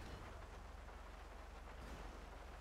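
Steady rain at night in GTA V with the LSPDFR police mod, a faint, even wash of falling drops with a low rumble underneath and no voices.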